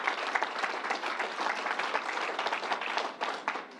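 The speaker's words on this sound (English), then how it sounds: "Let's give him a round of applause." A crowd applauds steadily for Van Robinson at an announcement event at the New York State Fairgrounds, a dense, even wash of many hands clapping continuously at moderate distance, with no talk over it.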